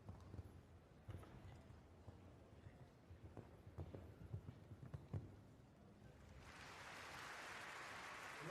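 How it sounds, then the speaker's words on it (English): Hooves of a show jumping horse in a 1.50m class at an international competition: a series of rhythmic clip-clop beats on the arena ground, moderately close. Steady crowd applause swells in near the end. "the horse is jumping absolutely brilliantly off this ground"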